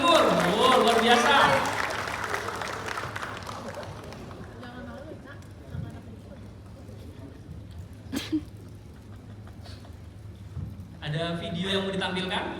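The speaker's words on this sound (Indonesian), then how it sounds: "tepuk tangan dong untuk Jawa Timur" Audience applause and crowd noise at a Quran study gathering, dense and loud at first, then fading into scattered claps and murmur before swelling again near the end.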